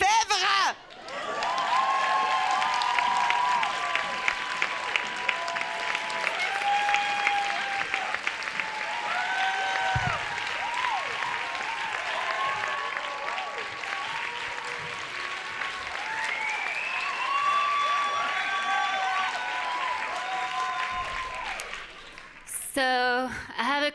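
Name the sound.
audience applause for a comedian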